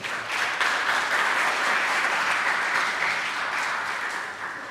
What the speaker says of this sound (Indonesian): Tepuk tangan untuk komunitas Tasikmalaya.